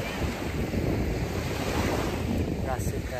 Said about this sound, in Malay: Tengok pantai, tengok laut, dengar bunyi ombak,